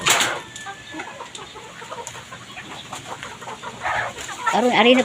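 A rooster clucks and calls close by amid farmyard noise, rising to a loud, drawn-out crowing call at the end, with brief talking in between.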